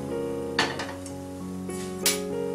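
A metal pan is lifted and set down on a gas stove, giving two brief clanks about a second and a half apart over a steady background hum, with no talking.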